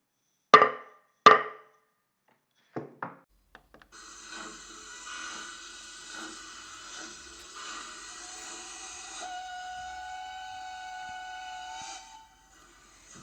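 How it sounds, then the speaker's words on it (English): A train-departure sound effect: two sharp whistle toots and a few clanks, then a steady, hissing horn-like drone that holds for several seconds before cutting off. "The train is now leaving the interpretation station."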